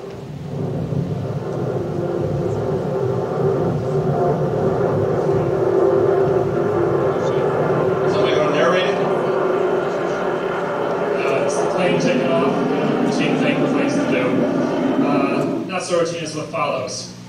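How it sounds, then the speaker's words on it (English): A chase plane films another aircraft beginning a parabolic flight, its steady engine roar continuous and loud throughout, with people talking faintly over it and some brief clatter near the end. "This is the chase plane footage of the plane beginning one parabola."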